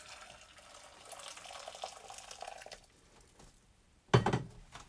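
Beans tipped into a pot of hot boiling water for a broad bean salad make a sudden loud splash and bubbling gush near the end, following a steady rushing, simmering water sound.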